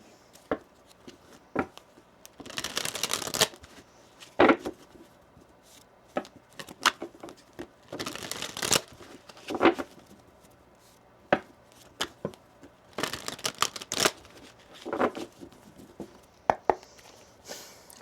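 Tarot cards shuffled in several separate bursts of papery slapping and riffling, close and fairly quiet, with brief pauses between.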